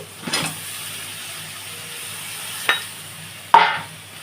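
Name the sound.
vegetables and fish heads added to pan for spinach curry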